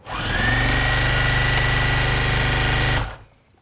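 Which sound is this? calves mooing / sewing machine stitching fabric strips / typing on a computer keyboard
sewing machine stitching fabric strips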